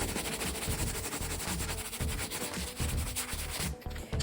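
Rough edges of an old damaged rustic wooden dresser being sanded, a loud, continuous gritty rubbing with rhythmic back-and-forth strokes, close up, with no talking.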